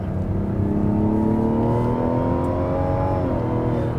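A Mazda CX-70 SUV on the move, its engine note climbing steadily and close with a continuous drone of road and tire noise throughout.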